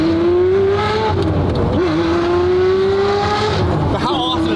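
A car engine revving loudly from inside the cabin, the note rising steadily with a brief dip at a gear change, while people talk faintly beneath the roar.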